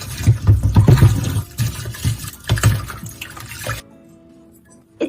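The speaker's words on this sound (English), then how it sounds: "wash it well and rinse it before using." Broccoli that soaked in potassium carbonate water is rinsed under running water, with loud splashing and sloshing in bursts for several seconds before the flow stops and only faint room tone remains.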